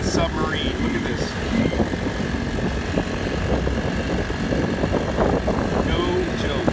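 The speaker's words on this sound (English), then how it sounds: "I am literally just not babying the motor. I just wanted to plow." A Honda 35cc outboard engine drives a kayak hard through water, buzzing steadily and fairly close, while a person talks over it.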